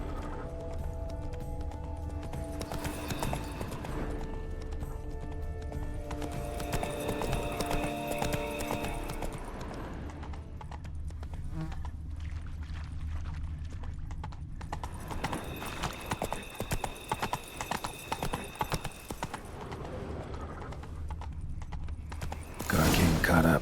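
A horse gallops through The Witcher 3, rapid rhythmic hoof clip-clops running steadily and close, with horse whinnies and snorts, game music and a voice heard over the hoofbeats.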